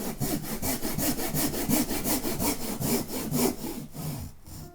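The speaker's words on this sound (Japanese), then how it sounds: "横の面に向けてノコギリ引いていきます。" A hand saw cuts into the side face of a square block of wood being shaped for a carving, producing steady back-and-forth rasping strokes, close and loud, roughly a dozen strokes with no talking.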